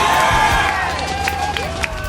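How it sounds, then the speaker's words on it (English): Crowd cheering at a StarCraft tournament final, a dense, continuous roar of voices and whoops filling the space loudly throughout. "People cheering on the savior of Prime."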